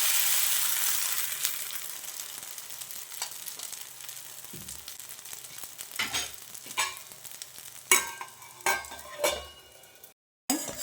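Rava bun dosa sizzles in ghee on a non-stick tawa, a steady close hiss that eases over time. A spatula scrapes and clinks now and then, and a few louder taps come near the end.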